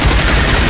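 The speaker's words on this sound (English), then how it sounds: "Bullets clang against armor." Gunfire and bullets clanging against armor in the video game Rage, a dense continuous burst of shots and metallic impacts filling the short moment.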